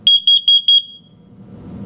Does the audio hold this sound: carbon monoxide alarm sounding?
yes